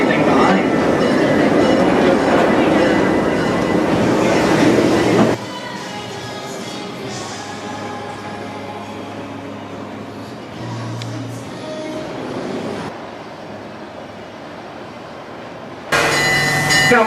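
Busch Gardens park train rolling along its track with a loud, steady rumble and wheel clatter that drops to a quieter hum midway before swelling again, a voice speaking over it.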